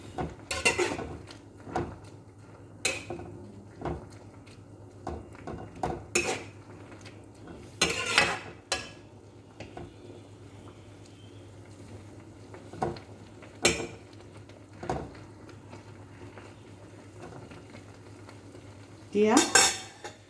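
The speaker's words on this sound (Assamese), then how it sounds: "এতিয়া মই কোমল পাতখিনি লৰাই দিম, যাতে পানীৰ তলত গোটেইখিনি" Tender colocasia leaves are stirred in a pot of water, giving sparse clinks and scrapes of a utensil against metal over a steady low hum, with quiet gaps between strokes.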